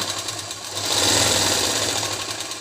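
Sewing machine stitching a zip into the back neck of a kameez, running steadily for a few seconds at close range, its motor whirring with a brief swell in the middle and no talking.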